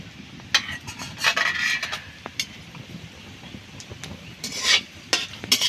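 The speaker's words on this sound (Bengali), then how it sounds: "এখন আমি তেল দিয়ে দিচ্ছি। গরম হয়ে গেছে, এখন আমি শুকনো লঙ্কা ভেঙে আর তেজপাতা কাঁচা জিরে দিয়ে দিচ্ছি।" Dried red chillies, bay leaf and whole cumin crackling in hot oil, a steady close sizzle broken by sharp scrapes and stirring strokes, with no one talking.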